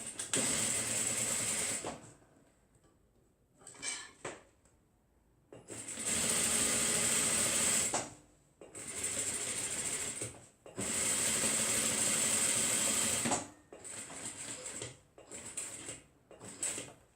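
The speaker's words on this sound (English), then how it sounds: "make sure the needle is down, you lift up your sewing machine then" Sewing machine stitching around the pinned edges of a foldover bag, running in long steady bursts of rapid mechanical whirring separated by short pauses and a few brief stops and starts, close and loud with no talk.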